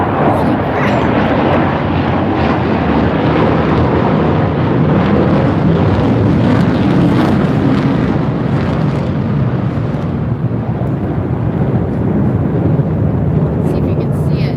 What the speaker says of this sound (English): Oh, there's an airplane. Ooh, that's loud.